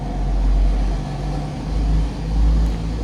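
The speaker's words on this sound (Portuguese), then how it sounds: "Hoje tá muito barulhento aqui, pessoal. Caminhão, pessoal trabalhando aqui do lado." A truck's engine rumbles steadily nearby, with workers busy next door, a low continuous drone that swells and eases in waves without any talk.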